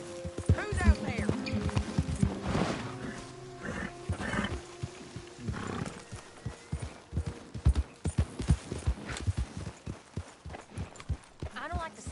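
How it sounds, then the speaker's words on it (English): Horse hooves clip-clop in a steady, fairly close rhythm inside a PS4 video game, with other game sounds and voices mixed in around them. "get that horse out of here"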